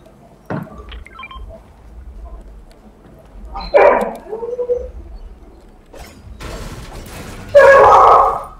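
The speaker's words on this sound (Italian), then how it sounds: "Cane." Dog barking inside the Fortnite video game, a few short barks and yips spread apart, mixed with game sounds, a beep and brief voices.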